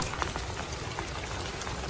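Rain falling on a street in Shenzhen, China: a dense, even hiss of drops hitting the pavement with scattered nearby splats, steady throughout with no voices.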